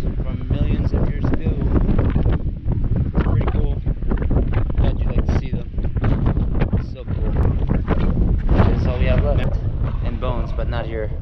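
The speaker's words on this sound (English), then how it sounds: "Pretty windy today, but really cool place so far." Strong wind buffets the microphone continuously at Grand Staircase-Escalante in Utah, a loud, rough rumble under someone talking throughout.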